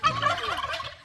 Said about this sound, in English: These guys are screaming and carrying on, and ducks are laughing.